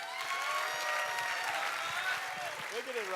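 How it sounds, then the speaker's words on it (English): An audience at a live dance charity event claps in a steady, dense patter of applause, moderately loud, with a voice speaking over it toward the end. "He needs to be applauded for it"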